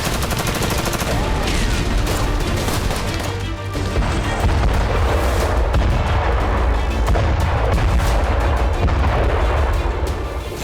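Artillery fire and explosions from Israeli attacks in Gaza, around Khan Younis and Rafah, form a dense, continuous barrage of loud booms and crackling blasts that runs unbroken for about ten seconds with no clear gaps.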